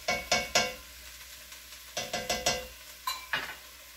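A spoon stirs tomato paste into a sizzling beef stroganoff pan, scraping in quick bursts of three strokes with short pauses between, over a faint, steady sizzle.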